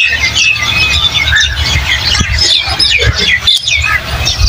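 Small birds chirp and squeak in quick, high bursts over a steady low rumble in a Sargodha district village, several calls overlapping throughout.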